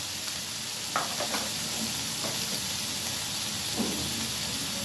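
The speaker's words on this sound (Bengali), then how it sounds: "মশলাটা আমি খুব ভালোভাবে ভেজে নেব" Cumin and turmeric spice paste with ginger, garlic, onion and tomato paste fries in a pan, a steady close sizzle with occasional stirring scrapes.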